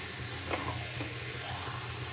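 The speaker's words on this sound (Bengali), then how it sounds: "এবারে এটা আমি সমানে কষিয়ে যাব" Masala being sautéed and stirred in a small wok, giving a faint, soft sizzle with a few light scraping strokes, heard close but quiet throughout.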